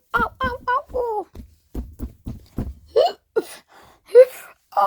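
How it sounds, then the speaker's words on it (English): A voiced character hiccups repeatedly in quick, uneven bursts, then cries out and talks in a high, childlike voice. "You got me fat boy and I got hiccups."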